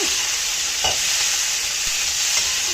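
Bell pepper and mixed vegetables fry in a pan with a steady sizzle, while a utensil stirs and scrapes a few times.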